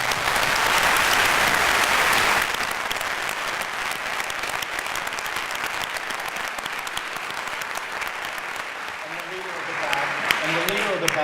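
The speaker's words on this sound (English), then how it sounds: "Let's give them a round of applause." A large audience applauds steadily at a live evening concert celebrating a music ensemble's anniversary, a loud dense wash of clapping that eases slightly after a couple of seconds and continues throughout.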